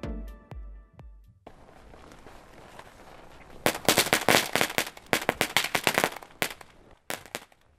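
Firecrackers go off outdoors during bear-deterrent training in Hokkaido in winter, a rapid string of sharp, loud cracking pops that crackles for several seconds after a quieter start, then ends with a few last bangs.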